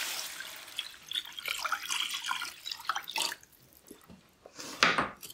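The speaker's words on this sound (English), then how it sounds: "I'm gonna start with 3 cups of water." Water poured into a pot to make a vegan pho broth gives a steady, hissing splash that runs for several seconds, fades briefly and then surges again near the end.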